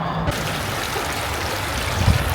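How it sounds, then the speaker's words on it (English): A creek flowing through an overgrown campground, a steady close rush and trickle of water running continuously without pause. "there is a really nice creek that runs through here"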